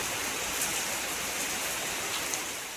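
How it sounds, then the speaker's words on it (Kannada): Heavy rain falling outside, a dense, even hiss of downpour that fills the whole clip without pause or voices. "ಮಳೆ ಬೀಳ್ತಾ ಇದೆ."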